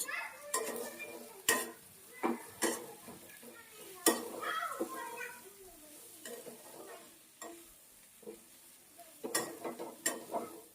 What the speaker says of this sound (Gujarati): હવે આપણે પાસ્તા નાખશું જુઓ કેટલા છૂટા છૂટા છે તો હવે આપણે આની અંદર ફેરવી અને મિક્સ કરશું